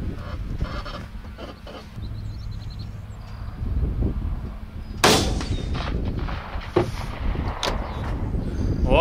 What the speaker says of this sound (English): That shot was only like 130, 140 yards.